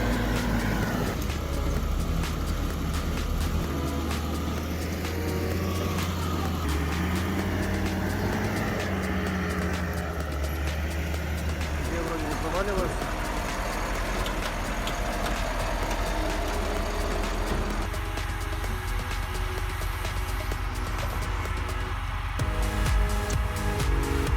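A TDT 55 forest tractor and a Kamaz 43118 truck, engines over 300 horsepower, labour through deep mud, their heavy diesel drone steady and loud with shifting pitch as the load changes, no voices over it.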